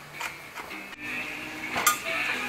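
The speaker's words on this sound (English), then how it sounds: "Let's get our celery chopped up." A knife cuts celery into fine strips on a cutting board, giving a few close, sharp taps and knocks spaced irregularly, with a louder clack near the end.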